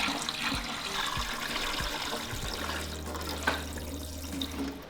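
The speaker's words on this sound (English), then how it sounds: "I'm just going to place hot water into the bottom of the pot" Hot water is poured into the bottom of a tamale steamer pot for green chile chicken tamales. The close, steady splashing of the stream is broken by a few low thuds against the pot.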